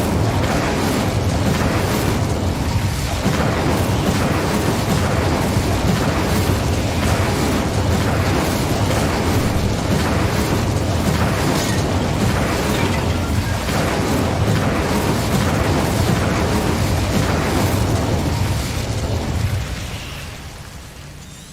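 Incendio fire spell blazing in Hogwarts Legacy, a loud sustained roaring, crackling burst of flame with booming rumble that holds steady for about twenty seconds before easing off at the end.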